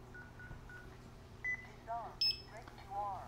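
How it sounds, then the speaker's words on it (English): A Lyric security alarm panel chiming as it disarms: short electronic beeps and tones sound close by over a low steady hum, with a voice speaking faintly behind them. "you get the beep to enunciate that it's now disarmed"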